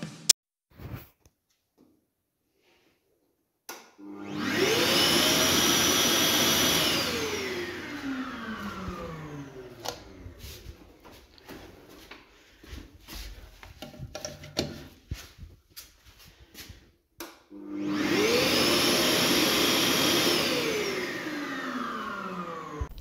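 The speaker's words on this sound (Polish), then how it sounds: "sprawdziłem jeszcze raz gniazdka odkurzaczem" A vacuum cleaner is switched on twice to test electrical sockets in a kitchen being fitted. Each time the motor whines up and then spins down. Bumps and clatter fill the stretch between the two runs.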